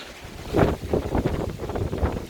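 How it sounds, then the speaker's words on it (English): Strong wind buffeting a nearby microphone in loud, uneven gusts that rumble and roar, outdoors while pruning a pomelo tree. "You can see how windy it is."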